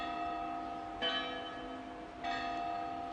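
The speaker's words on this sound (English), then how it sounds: "What I find so endearing about all of Europe is its exuberant use of bells. They ring out here on the hour" Church bells in Innsbruck, Austria ring with two clear strikes about a second apart, their rich tones hanging and decaying over a steady low ambient hum, with no voices.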